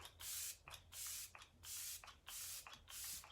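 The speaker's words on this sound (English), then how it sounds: "Let It Set setting spray." Arbonne Let It Set makeup setting spray sprayed in a series of short, close hissing bursts, about six spritzes with brief pauses between them and no voices.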